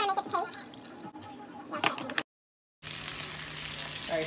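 Pot stickers fry in a little oil in a pot, giving a steady hiss and sizzle with some stirring clatter. Speech-like sounds come and go over it, and the sound cuts out briefly partway through.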